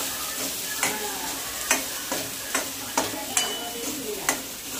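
A spoon scrapes rhythmically around a pan, stirring turmeric, salt and spice mix into a Maharashtrian khar vangi, about eight distinct strokes over a soft sizzle, close and fairly quiet with no voice.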